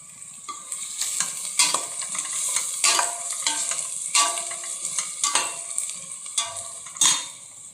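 Chicken curry with shahjeera frying in a pan, stirred with a spoon in repeated scraping strokes over a steady sizzle, close and fairly loud, with no talking.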